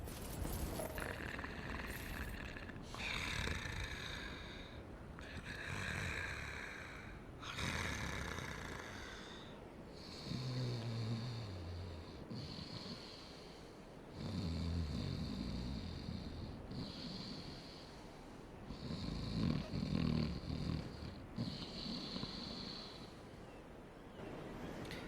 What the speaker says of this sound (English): once you ring one of the bells, you hear snoring